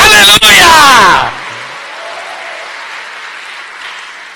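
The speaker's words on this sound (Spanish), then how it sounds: "Démosle palmas al Señor." A church congregation bursts into dense, loud clapping for about a second, then it cuts off sharply, leaving quiet room tone.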